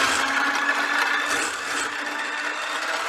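Egg yolks being whisked for tiramisu: a steady, fast scraping and clicking rattle of a whisk against a bowl that carries on without a break for the whole stretch. It sounds close and fairly bright, and nobody talks.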